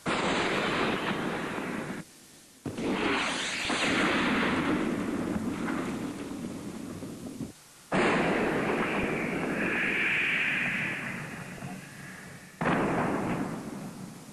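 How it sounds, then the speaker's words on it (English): A barrage of 165-millimeter artillery rounds fired from 250 yards away at a stubborn oil-well fire in Kuwait, heard as several heavy booming blasts separated by brief silences, each followed by a long rumbling decay. "They fired several 165-millimeter rounds from 250 yards away."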